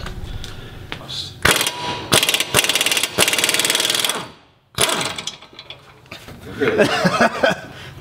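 A 30mm hub nut removed from a Nissan 240SX during a brake swap, with loud bursts of a rattling power tool hammering in several sharp runs, close by, followed by metallic handling noise.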